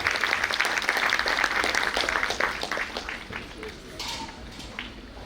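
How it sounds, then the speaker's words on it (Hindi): Sustained audience clapping at a children's Ekal Sur Taal music programme, dense and steady through the first few seconds, then thinning and tapering off toward the end. "तालियां बजती रहनी चाहिए, हमारे बच्चों का उत्साह नहीं कम होना चाहिए।"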